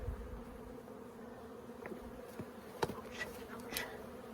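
Honey bees buzz steadily around a backyard beehive, a continuous hum of many insects close by with a few louder passes near the listener.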